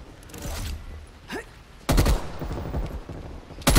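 Call of Duty prop hunt match with automatic gunfire, scattered shots early then a loud dense burst and another sharp volley at the end, with game noise and faint voices underneath.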